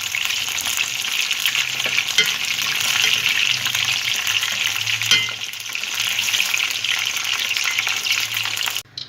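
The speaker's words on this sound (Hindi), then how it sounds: "इसको थोड़ा सा हिला देंगे ताकि नीचे से चिपके नहीं।" Onions and spices sizzling in a pan for fish curry while being stirred, a steady loud frying hiss with occasional scrapes of the spoon, no talking.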